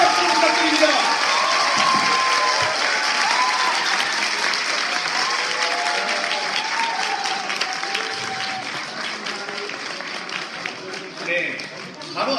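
Dense, steady applause from a large crowd at a Democratic Party new-members academy pre-event as Ahn Hee-jung enters, loud and sustained for about twelve seconds, with voices and some cheering mixed in and tapering slightly toward the end.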